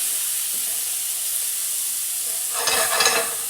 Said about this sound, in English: because I want to put my onions in and I don't want to burn them. And then get my garlic in